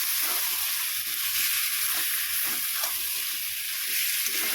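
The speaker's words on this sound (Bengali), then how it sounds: "দিয়ে ভালো করে মশলার সাথে আলুগুলোকে একটু কষিয়ে নেব।" Fried potatoes sauté with spices in oil for aloo dum, giving a steady moderate sizzle with soft, irregular stirring scrapes throughout.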